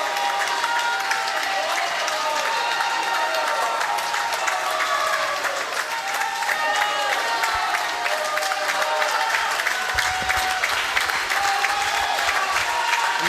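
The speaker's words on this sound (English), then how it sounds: "Love that the crowd is cheering" Crowd cheering and applauding at a high school boys' swim and dive meet, a steady, dense wash of claps and cheers that holds at a constant loud level throughout, with faint voices mixed in.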